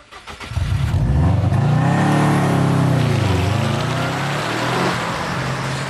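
A Mitsubishi Evo 7 and a Subaru Impreza run on a wet racetrack, with a loud, close engine roar that swells, rises and falls in pitch as the cars accelerate and pass, then eases off.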